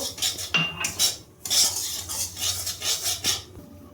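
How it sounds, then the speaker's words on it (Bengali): A metal spoon stirs semolina in hot ghee in a pan, scraping and clinking steadily against the pan with rhythmic strokes, close and clear, with no talking. "ঘিয়ের মধ্যে আমি সুজিটা দিয়ে দেবো। এটাকে আমি ভালো করে নেড়ে নেব"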